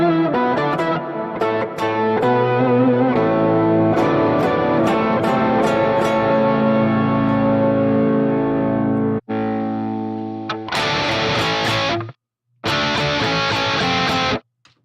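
An electric guitar runs through octave effect presets in REAPER, playing loud, heavily processed distorted chords and riffs with shifting tones, cut by brief silent gaps between presets near the end, with no talking.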